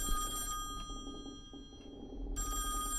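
A telephone rings with a loud, bright electronic trill that plays in bursts with a short gap between them, close by and without any talk over it.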